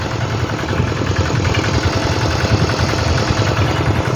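A walking tractor's small engine idles steadily close by, a continuous rough, rumbling chug with no pauses or voices.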